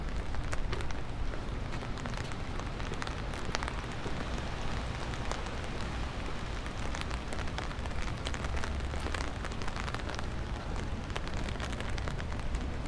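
Rain falls steadily on Skid Row as Tropical Storm Hilary arrives, a dense, even patter on surfaces that carries on without a break and has no voices.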